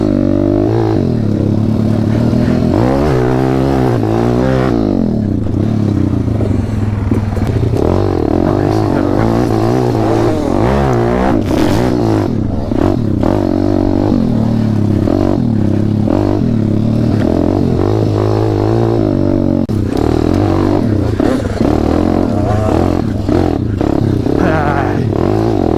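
A KTM 250 SX two-stroke dirt bike engine runs loud and steady throughout, with its pitch wavering as the rider revs on and off the throttle, and some clatter and voices faint beneath.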